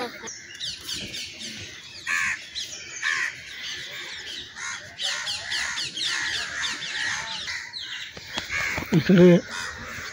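Several crows caw repeatedly among other chattering bird calls in treetops on Malabar Hill, Mumbai, fairly close and steady, with a person's voice briefly heard near the end.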